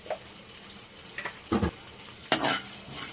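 Fenugreek, mustard seeds and cumin frying in a pan for fish pickle, with a few short sizzling bursts and spoon scrapes against the metal, close by and otherwise quiet.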